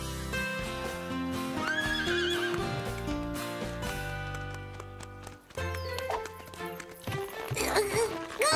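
Horses whinny repeatedly over a busy bed of hooves clattering at speed, with music-like tones layered in and a loud, crowded mix, from an animated cartoon.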